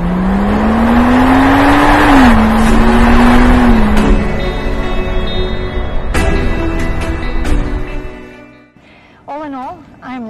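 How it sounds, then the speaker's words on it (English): A powerful 600-horsepower V12 engine in a 2021 Mansory Rolls-Royce SUV drones loudly as it accelerates, pitch rising then settling, with road and wind noise before tapering off at the end. "It does have a V12 engine, a lot of power, 600 horsepower."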